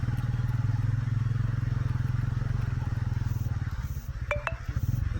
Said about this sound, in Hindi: यहाँ पे मैं अपनी बाइक को पार्किंग पे लगाऊंगा।